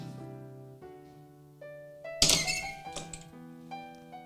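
A heat press clamps shut for a final press on printed heat transfer vinyl, one solid thunk midway with a brief clatter after it, over a quiet tonal background.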